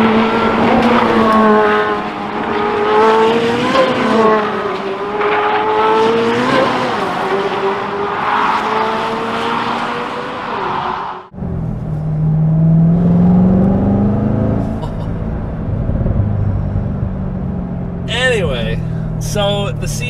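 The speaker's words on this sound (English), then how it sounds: "footage of the C8 Z06 on the Nürburgring" A high-revving Corvette C8 Z06 screams past on the Nürburgring, engine pitch climbing and dropping through gear changes, followed by another engine passing with a tire squeal.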